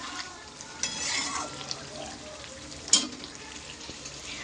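Chicken curry sizzles and fries in a pan as a little water is added, giving a steady hiss with a brief splashing burst partway through, close and fairly loud.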